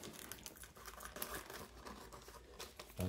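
Plastic bag holding small Pokémon figure pouches from a Bandai Paldea set, crinkling and rustling continuously at close range, with a louder crackle near the end.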